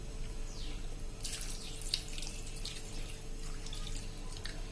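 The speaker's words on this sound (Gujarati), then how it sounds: "અને એમાં આપણે 1 કપ જેવું પાણી નાખી દેશું" Roughly a cup of water poured into a pan of soaked sago for a baby-food recipe, a short splashing pour that runs over a couple of seconds, close and moderately loud, with no talking.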